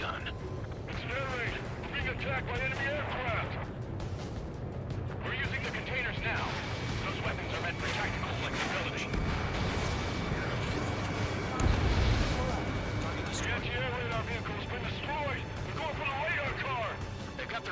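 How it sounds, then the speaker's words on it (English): Anti-air guns firing in the combat flight game Ace Combat 7, a dense continuous barrage of booming bursts under jet and battle noise, with radio chatter and a voice talking over it. "anti-air guns aimed right at us"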